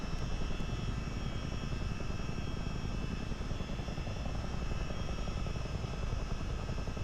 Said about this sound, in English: I love this helicopter. It flies like a dream in here. Love the sounds.